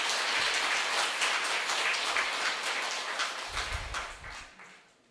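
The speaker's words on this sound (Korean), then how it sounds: "식구님들의 힘찬 박수로 시작하겠습니다" A congregation at a family worship service claps together in a dense burst of applause that starts strong and gradually thins and fades away over several seconds.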